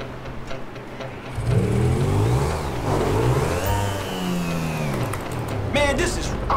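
A revving motorcycle engine in GTA V rises and falls in pitch across several seconds, loud and close, with game sounds and a brief voice underneath.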